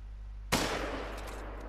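A rifle fires at a fox while hunting in theHunter: Call of the Wild, a single loud crack over a quiet outdoor hum, followed by a long rumbling echo that slowly fades.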